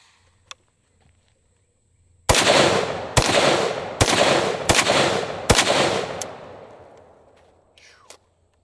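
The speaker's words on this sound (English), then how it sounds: "with that big caliber, we're gonna hit it with one more rifle. This is my H-Car 30-06." Five rapid, loud rifle shots from an H-Car .30-06 firing full metal jacket rounds into an electrical transformer, each crack followed by a long rolling echo, with a faint metallic ping afterward.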